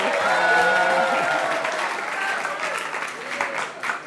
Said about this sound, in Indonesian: Tepuk tangan buat Kafka dulu.